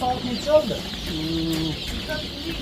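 Leghorn and Dalmatian chickens cluck in a steady run of short, fairly close calls over constant coop background noise.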